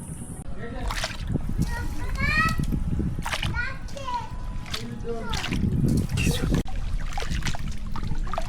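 Dirty water splashing outdoors at a picnic, repeated splashes and sloshes under loud chatter from children and adults close by.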